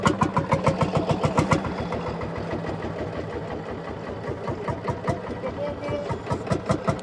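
An engine fires up and idles with a loud, rapid, regular pulsing beat that settles slightly after the start, with voices speaking around it.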